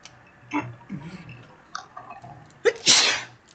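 A single sharp sneeze bursts out near the end, loud and close, after a few quiet clicks and soft mouth sounds.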